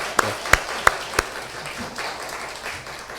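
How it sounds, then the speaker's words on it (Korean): A few sharp claps ring out at a church worship service, four distinct hand claps spaced evenly, followed by a quieter room murmur with no further clapping. "박수로 다시 한번 축하합니다"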